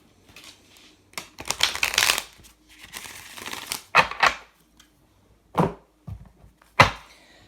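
Tarot cards are shuffled and handled for a Pisces reading, heard as bursts of riffling, slapping and flicking separated by quiet pauses. The sounds are close and crisp, with no voice.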